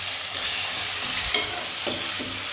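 Ginger-garlic paste frying with onions in a pan, a soft steady sizzle with a few light stirring scrapes, fairly quiet and with no voices.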